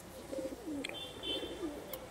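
Faint pigeon cooing comes from pigeons with strong feet, two soft rolling coos a moment apart, with a small click and a brief chirp in between.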